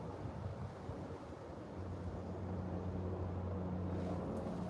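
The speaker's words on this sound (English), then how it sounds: "the dang wind keeps messing everything up" Gusty wind buffets the microphone outdoors, a steady low rumbling roar that thickens and grows slightly louder toward the end, with no voices over it.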